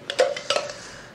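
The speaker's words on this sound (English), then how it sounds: "Please excuse the cutlery." Cutlery and dishes clatter at a dinner table, a quick burst of several close metallic clinks and knocks that fades to quiet.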